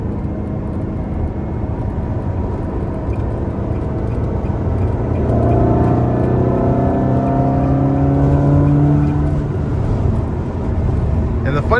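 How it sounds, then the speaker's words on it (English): A 2003 Ferrari 360 Spyder's exhaust growls as the car pulls away, a loud droning engine note rising in pitch through the middle of the clip over steady road noise, heard from inside the car. "And you got to hear the menacing growl from the exhaust."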